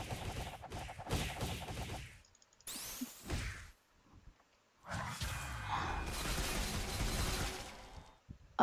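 Rapid barrage of punches in the Roblox game Your Bizarre Adventure, delivered in bursts of quick hits and whooshes with gaps of near silence between them, fairly faint, with no talk.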